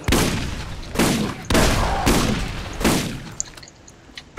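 Repeated loud gunfire bursts in the Borderlands video game, several broad volleys spaced about half a second to a second apart, each decaying with a rumbling tail, followed by fainter sharp clicks.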